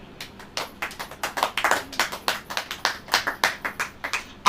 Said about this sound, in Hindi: ताली हो जाएगी।